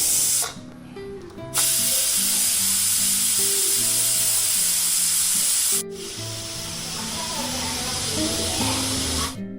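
Steam rushes loudly from a pressure cooker of toor dal as its whistle is lifted, a strong continuous hiss that cuts off briefly twice, under a faint tonal hum.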